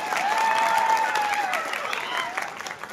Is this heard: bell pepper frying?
no